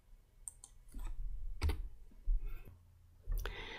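A computer mouse clicks a few times, soft close taps scattered over a quiet background.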